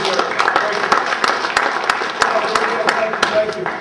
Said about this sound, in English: Round of applause, give this man a lot to deserve.